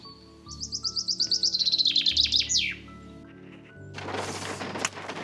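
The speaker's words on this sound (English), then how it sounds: "there's a beautiful sounding bird somewhere out here." A bird sings a rapid series of bright descending chirps nearby, then falls silent as a hiss of rain or wind rises.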